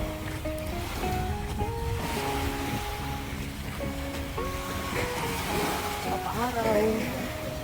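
Ocean surf rolls in at a beach lined with hotels, a steady wash of waves and wind beneath people talking nearby throughout.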